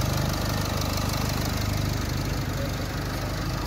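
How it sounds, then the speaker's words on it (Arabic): A replacement 2.0-litre engine in a Renault Koleos idles steadily and loudly up close, a continuous low rumble with an even mechanical pulse and no talk. "ها الموتور صافي، راه ناضي ان شاء الله"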